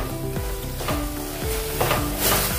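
Masala frying in oil in a kadhai over a medium gas flame for aloo baingan sabzi: a loud, steady sizzle with repeated scraping stirs, no voices.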